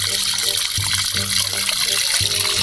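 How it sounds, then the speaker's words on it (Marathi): Water is poured into a cooking pot in a village kitchen, a short trickling splash with sloshing pulses, heard under a busy, noisy background. "पाणी टाक द्या."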